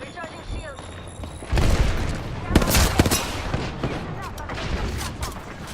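Heavy gunfire in a video game shootout, a dense barrage of loud booming shots and rapid bursts close by, with a voice talking over the firing.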